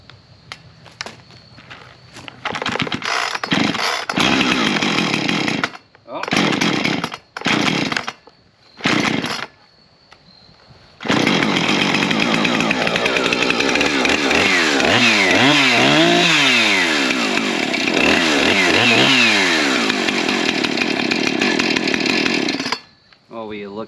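A chainsaw engine sputters with several short revving starts, then roars continuously, loud and close, with revs rising and falling.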